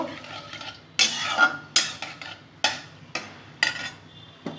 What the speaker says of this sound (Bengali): সরষের তেল গরম করে নিয়েছি, কালো জিরাটা দিয়ে দিলাম।